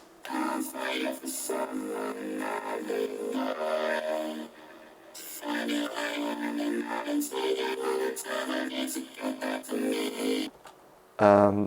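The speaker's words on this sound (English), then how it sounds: "the vocal just inspired me to make some vocoder thing with it, which sounds like this" A sung vocal run through a vocoder in FL Studio, its carrier playing chords a semitone off the original key, giving a robotic harmonized melody in steady phrases with a short pause midway and a brief low burst at the end.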